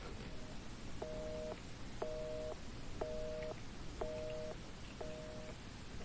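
A telephone in the Resident Evil 7 video game rings in a repeating pattern of five short double-tone bursts, one about each second, steady and clear over a low hum with no voices.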